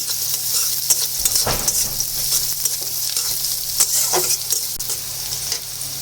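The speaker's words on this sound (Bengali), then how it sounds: "পেঁয়াজটা একটু লাল লাল করে ভেজে নিতে হবে।" Onions frying in a pan until reddish, stirred now and then, with a steady close sizzle and occasional scraping stirs, no talking.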